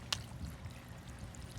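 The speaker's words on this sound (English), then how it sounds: "This is the water flow coming into the media bed." Water flowing into an aquaponics media bed, a faint, steady trickling pour heard alone and at a low level.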